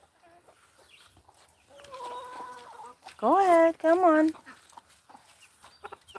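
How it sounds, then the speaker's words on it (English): Backyard farm chickens cluck loudly in two bursts, close by, while a person gently calls to them and talks. "I don't like when chickens go in the house."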